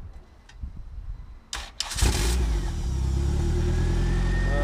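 A Honda Integra RS engine fitted with a Greddy turbo kit cranks briefly, catches and fires up, then settles into a loud, steady idle close by.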